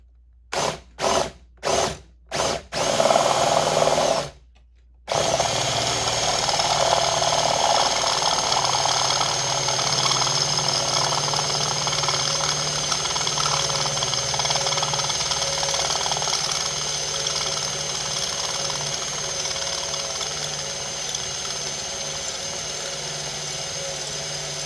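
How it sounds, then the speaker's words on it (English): A power drill whirs in several short bursts, then runs in one long continuous drilling stretch that whines steadily before easing slightly toward the end, drilling out a hole in a Phase Linear 700 amplifier during a power switch replacement. "we've got to drill a hole out a little bit"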